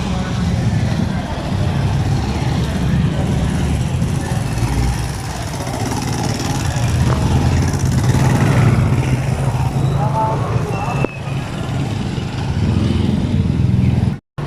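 A motorcycle engine idles steadily and loudly up close, a continuous low rumble with road noise that runs for the whole stretch before cutting off abruptly at the end.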